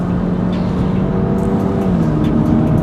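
An Alfa Romeo Giulia on the move, its exhaust and engine producing a loud, steady low drone that stays even throughout, heard alone without speech.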